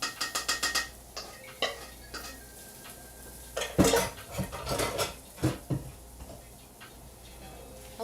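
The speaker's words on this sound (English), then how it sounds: "a lot of dishes after cooking. A lot of dishes." Dishes, pots and pans clatter in a small New York City kitchen after pancakes are cooked: a quick run of sharp clinks, then scattered louder knocks and scrapes, close by, with no talking.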